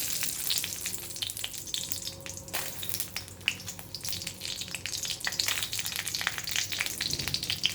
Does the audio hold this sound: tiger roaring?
no